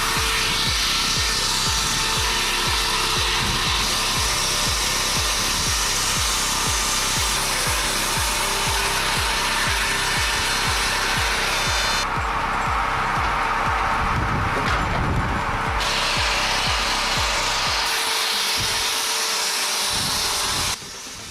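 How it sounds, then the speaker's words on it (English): A chainsaw, used by a worker high up on a ladder, cuts through wood with a loud, steady buzzing drone and rhythmic chopping pulses that run throughout before cutting off near the end. "If there's one thing you just don't do, it's bringing a chainsaw up a ladder."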